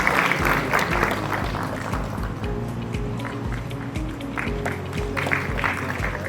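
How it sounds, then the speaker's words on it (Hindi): Steady applause from the audience at a book launch as guests on stage are welcomed, dense and continuous for the whole stretch, with a low hum of the room underneath. "तालियों के साथ हम स्वागत करेंगे हमारे मंचासीन महानुभावों का।"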